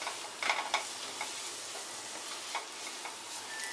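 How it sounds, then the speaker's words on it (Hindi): Soya masala being stirred in a pan with black pepper and coriander-cumin powder: soft scraping strokes with a few sharper clicks early on, faint and close over a light background hiss. "अच्छे से मिक्स कर देते हैं।"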